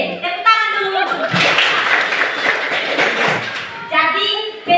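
Pupils in a classroom clapping together in a dense burst of applause, loud and close, with children's voices before and after.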